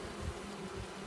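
Bees hum steadily from an opened beehive, a continuous low drone with a faint, even buzz throughout and no voices.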